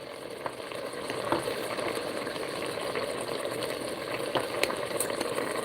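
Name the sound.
onions and garlic frying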